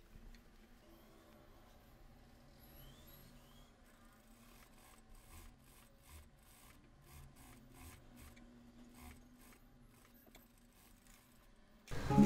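Sewing machine stitching a lace edge onto a garment, a faint, steady rhythmic clatter of the needle that runs quietly throughout, ending in a louder thump.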